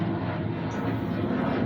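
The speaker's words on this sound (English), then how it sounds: "pardon the jet noise, fellas." Steady, fairly loud aircraft engine roar near an airbase, holding evenly for under two seconds with no talk over it.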